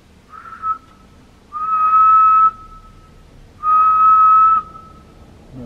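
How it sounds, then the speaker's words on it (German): Two long sustained whistled notes, close and clear, separated by a pause, with a reverberant hollow echo trailing after each from a deep well. "Aber ich pfeife mal."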